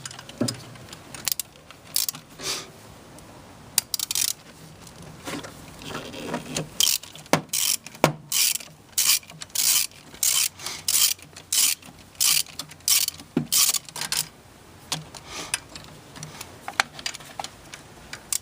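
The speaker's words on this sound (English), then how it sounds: "This one's much easier with just a regular ratchet." Ratchet turning a 10 mm bolt on a Honda Civic GX CNG fuel injector, rapid metallic clicking in repeated bursts of strokes, close and steady with no talk.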